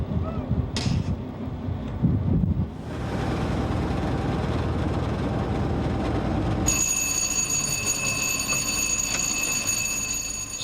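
A train on a snowplow run pulls into Dundalk station, rumbling and grinding low and steady, then a shrill high ringing tone rises and holds over the rolling rail noise.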